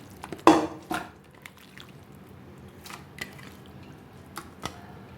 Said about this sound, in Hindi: सबसे पहले प्रेशर में मैं डालूँगी गोश्त